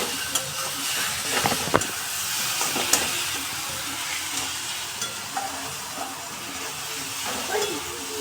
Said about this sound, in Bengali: আমি রসুনটা ভালো করে ভেজে তারপরে আদা বাটা দেবো।